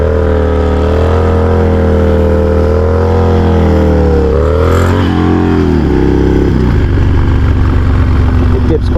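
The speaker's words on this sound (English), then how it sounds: "Let's do a wheelie right here" A Harley motorcycle engine, recorded close and loud, roars steadily, then climbs in pitch as the throttle is rolled on for a wheelie and changes tone near the end as the revs shift.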